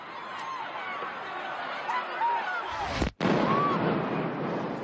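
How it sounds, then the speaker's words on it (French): The second bomb blast at the Boston Marathon booms out from a distance as a sharp burst through crowd chatter and cheering, followed by a brief cut and then renewed crowd noise. "une seconde explosion retentit."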